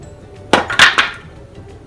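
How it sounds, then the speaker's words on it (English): Several sharp hammer blows strike nails while a wooden pallet is taken apart, a quick cluster of three or four close, loud impacts with a slight ringing edge, then quiet. "hammer it down"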